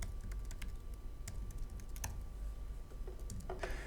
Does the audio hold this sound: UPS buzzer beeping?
no